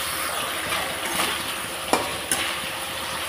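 Spice paste fries in oil for a potato and eggplant fish curry, making a dense, steady hiss with a few soft stirring knocks, close and fairly loud.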